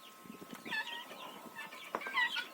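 Guinea fowl and chickens cluck together outdoors on a village yard, soft scattered calls repeating at moderate distance with no talking.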